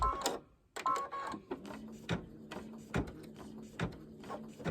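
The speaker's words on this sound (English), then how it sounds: "so now it's going to stitch around the tooth" An embroidery machine stitches around the tooth of an Easter bunny design on a table runner, its needle thumping in a steady repeating rhythm with quick mechanical clicks, close and moderately loud.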